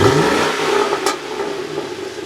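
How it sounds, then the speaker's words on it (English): A car engine revs in a city street, a loud, close mid-pitched growl that holds strongly at first and then eases off, with one brief high hiss partway through and no talking. "rev it up."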